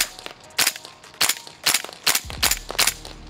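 Shots from a G&G MGCR 556 airsoft gas blowback rifle, about six sharp, snappy cracks at a steady unhurried pace, close and loud, with quiet pauses between them.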